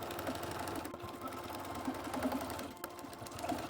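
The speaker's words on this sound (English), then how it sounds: "Again, I'm just going to serge it because I have that option." Serger finishing the raw edge of a sleeve seam on a garment, a fast continuous mechanical whir with rapid stitching clatter, near and steady with a couple of brief pauses.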